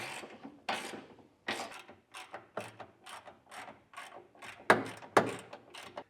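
Ratcheting and clicking of a wrench snugging up 21 millimeter bolts on a Curt Class III trailer hitch being installed on a 2024 Chevrolet Colorado, with short bursts of mechanical clatter repeating at an irregular pace, up close.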